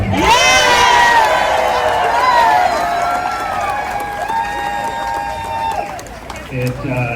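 A large crowd of protesters at a No Kings rally cheers and whoops loudly in many overlapping voices, the roar tapering slightly but staying energetic throughout.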